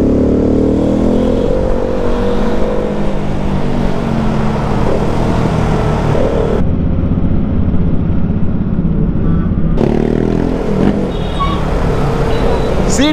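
KTM Duke motorcycle engine droning steadily while riding, loud and continuous with wind rush, briefly dipping in the middle before resuming, with a voice talking over it.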